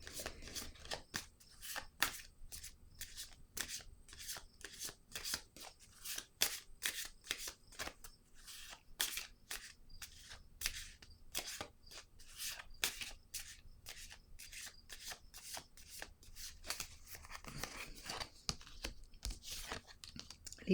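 A deck of cards for a reading is riffled and shuffled close up, with rapid papery flicks in steady bursts and brief pauses between them, quiet and unaccompanied.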